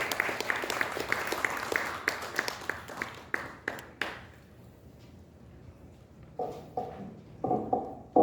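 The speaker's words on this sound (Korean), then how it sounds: "박수로 맞아주시면 대단히 감사하겠습니다" Applause at a Korean anniversary ceremony and awards presentation. A crowd claps loudly and steadily at first, then the clapping fades out and a few scattered claps follow near the end.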